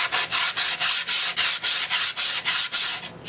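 Sandpaper rubbed along the edges of skateboard grip tape in quick, even back-and-forth strokes, about a dozen raspy passes close by with no voices.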